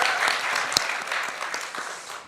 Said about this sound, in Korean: Let's all applaud for the new interpreter.